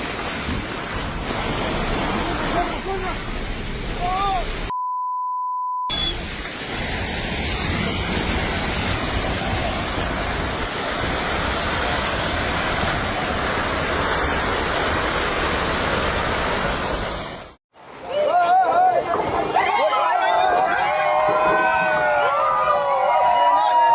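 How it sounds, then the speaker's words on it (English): A landslide in Meghalaya, India, roars like a raging river, a dense, continuous rushing wash of noise heard through most of the stretch, interrupted by a short electronic beep and a sudden cut, with voices and shifting sounds afterward. "The sound of this landslide is so intense that it reminds me of a raging river."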